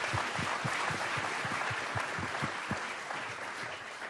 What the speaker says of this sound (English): You can always cheer for that.